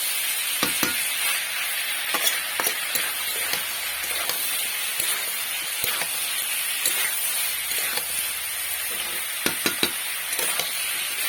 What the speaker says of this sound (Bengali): আমি ভালোভাবে দুটো কষে নিচ্ছি যাতে কোনো মশলার গন্ধ না থেকে থাকে।